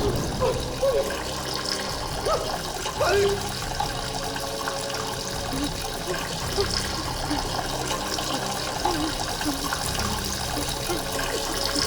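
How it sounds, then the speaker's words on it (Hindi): Water running steadily from a tap fills the scene with a continuous splashing, gurgling rush, loud and close, with faint voices mixed beneath. "पानी बंद करो।"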